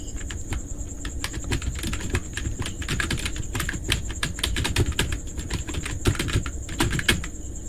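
Steady typing on a computer keyboard, dense irregular key clicks running continuously at close range with no talk over them.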